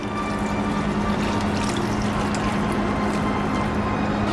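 Second and third extract coconut milk, about 180 ml, poured into a cabbage curry simmering in a pan, a steady close liquid rush and bubbling that holds evenly throughout with no talk.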